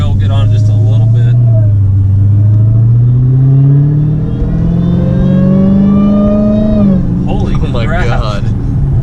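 A Dodge Challenger Hellcat with a Legmaker intake revs up through light accelerations, a loud, close, rising engine roar that climbs in pitch over several seconds while people talk over it.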